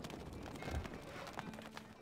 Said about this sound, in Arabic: الفرس تعدو